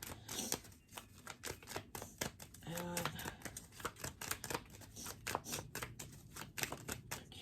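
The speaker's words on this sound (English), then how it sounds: "And look, I've been shuffling and it's over 80 cards." A large deck of more than 80 oracle cards being shuffled by hand, producing rapid, close, crisp clicking and flapping in an uneven, continuous rhythm.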